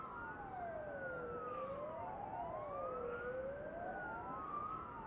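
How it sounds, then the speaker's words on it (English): A wailing emergency siren from an ambience emitter on a Hammer editor game map: two overlapping tones sweep slowly up and down, steady and fairly loud, with no talk over it. "So the siren that we're hearing at the moment should work as a good example."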